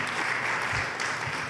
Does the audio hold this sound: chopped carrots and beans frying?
no